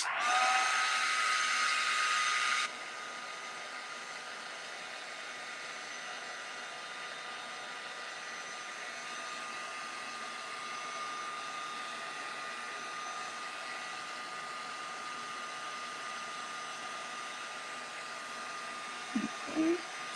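A heat tool blows a loud, steady hiss of air over gel crayon art on paper to heat-set it. The tone drops a little after the first few seconds and then holds steady to the end, ending with a couple of brief knocks.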